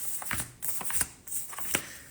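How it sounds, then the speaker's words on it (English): Tarot cards shuffled and drawn by hand, giving a run of quick papery riffles and soft slaps in three uneven bursts, close and fairly quiet. "Let me pull 3 cards."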